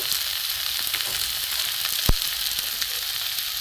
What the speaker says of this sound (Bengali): এটা একসাথে আমি কষবো ভালো করে